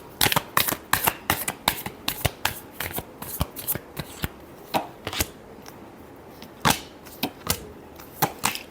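Tarot cards being shuffled for a Pisces love reading, a long run of crisp, rapid riffling bursts close to the listener, with brief pauses between them and no voices.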